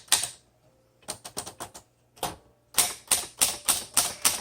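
A 1954 Smith Corona Skyriter travel typewriter typed on at close range, with loud clacking keystrokes in irregular bursts, short pauses between groups of strikes, and a faint bell-like ring near the end.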